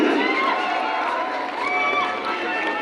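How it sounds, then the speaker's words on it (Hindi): Sustained crowd noise fills a Godawari conference hall at an anniversary event as an audience applauds and cheers to welcome a speaker, a dense, continuous wash with shouting mixed in. "जोरदार तालीले हामी स्वागत गर्न चाहन्छौँ"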